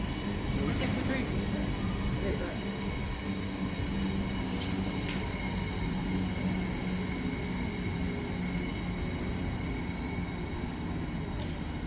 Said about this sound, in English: here it's 73218, leading the 1554 London North Western Railway service to Crewe.